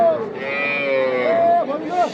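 Cattle at the Raniganj cattle market give a close, loud, drawn-out moo with a wavering pitch, followed by a second shorter call, against faint market background noise.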